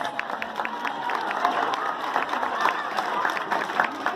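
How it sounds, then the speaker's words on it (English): Audience at a sea lion show claps and cheers steadily, a dense patter of many hands with light crowd voices mixed in, moderately loud and continuous throughout. "Let's give these two a big round of applause."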